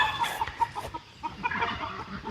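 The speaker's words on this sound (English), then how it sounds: "The dogs are giving a chicken what for because he was chasing a hen" A farm chicken clucks and squawks in agitated bursts while dogs chase it after it went after a hen, with rapid overlapping calls and scuffling, close and fairly loud, no talk.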